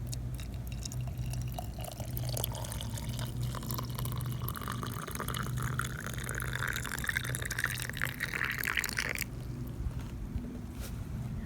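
Hot water pours into a teapot holding dandelions, a steady trickling splash with rising pitch as it fills, stopping abruptly near the end; no one talks.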